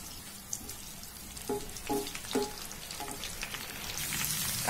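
Onion frying in a pan for homemade ayurvedic hair oil, a soft, quiet sizzle broken by a few distinct scraping stirs near the middle.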